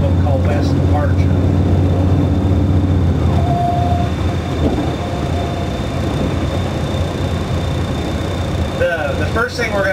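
Switch engines shove strings of freight cars around the Bailey Yard rail yard, with a steady low mechanical rumble throughout and sharp squealing wheels near the start and end, while someone talks over it.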